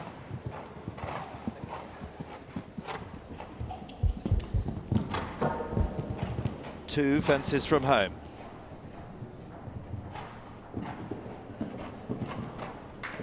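Horse hooves thudding and clopping rhythmically over a showjumping course at the Bury Farm All Stars Grand Prix, with a horse in a bitless hackamore bridle, a sharp cluster of impacts midway, under ongoing commentary.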